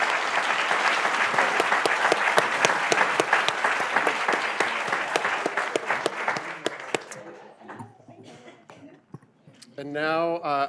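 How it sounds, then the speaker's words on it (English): An audience at a celebration event applauds panelists with dense, sustained clapping for about seven seconds before it thins out to scattered claps, and then a voice starts speaking. "One more round of applause for our panelists"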